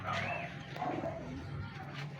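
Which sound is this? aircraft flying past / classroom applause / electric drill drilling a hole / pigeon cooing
pigeon cooing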